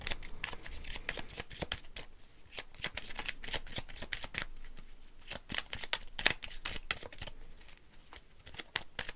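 Lenormand oracle cards are shuffled by hand in a steady run of crisp riffling bursts, close and fairly quiet, with no talking.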